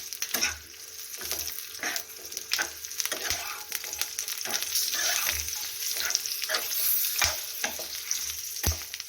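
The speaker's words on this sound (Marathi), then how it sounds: "तर त्याच तेलामध्ये या मिरच्या आपण हलक्याशा भाजून घेऊया" Green chillies frying in a little oil in a pan, a continuous crackling sizzle broken by sharp repeated stirring clicks and scrapes, close and fairly loud.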